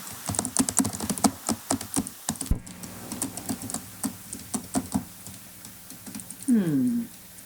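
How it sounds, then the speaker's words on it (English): Rapid, uneven keystrokes clatter on a computer keyboard during a smart growth summit presentation, close and fairly loud, with a short pause midway and a brief rising tonal sound near the end. "still typing"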